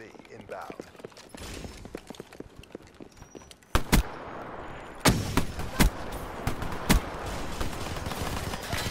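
Video game shootout gunfire, with sharp loud shots and bursts ringing out repeatedly over several seconds amid lighter clatter and ambient noise.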